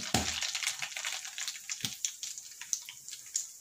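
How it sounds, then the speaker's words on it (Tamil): Mustard seeds spluttering in hot oil in a pan, ready for a fish pickle, make a close, dense crackling sizzle broken by sharp pops and a few louder bursts, with no voices. "கடுகு நல்லா பொரியட்டும்."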